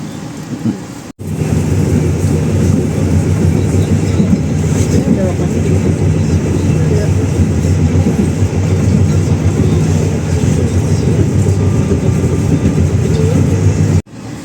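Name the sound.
passenger train passing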